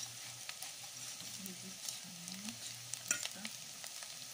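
Omena, small fish, fry in a pan with a soft, continuous sizzle while a utensil stirs them, adding scattered light scrapes and taps; the frying is fairly quiet and close, with a faint low hum underneath.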